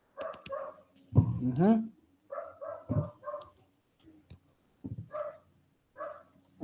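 A lively puppy yips and barks in quick, high-pitched bursts, close by and repeated across the stretch, with a person briefly murmuring in between.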